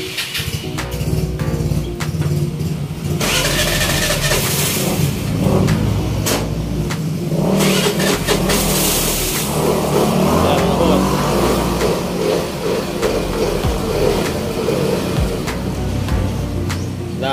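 A Suzuki Avenis 125 scooter engine with an idle fault, stalling and failing to hold idle, runs and revs unevenly close by for the whole stretch, with mechanical clatter and no talk.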